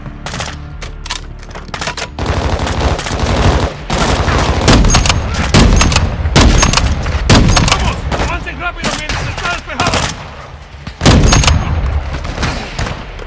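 A detonated charge erupts amid heavy automatic gunfire during a Mexican prison break in Call of Duty: Modern Warfare II, with loud, continuous battle noise, a sharp blast late on, and brief spoken lines underneath.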